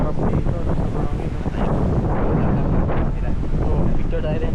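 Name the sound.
wind blowing on the coast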